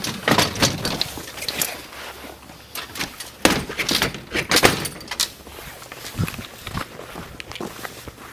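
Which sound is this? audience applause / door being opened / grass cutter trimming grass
door being opened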